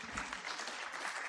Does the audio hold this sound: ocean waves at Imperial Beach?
no